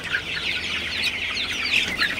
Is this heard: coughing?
no